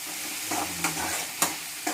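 Chopped vegetables frying in a pan for a Suji Rava Semiya Bath, with a steady close sizzle broken by a few sharp scrape-and-stir clatters.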